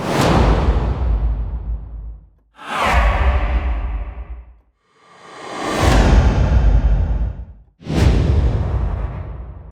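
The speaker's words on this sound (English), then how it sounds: "these sort of soft transition whooshes are really helpful" Four soft transition whooshes from a sound-effects library sweep through one after another, each swelling loud and fading away, with brief silent gaps between them.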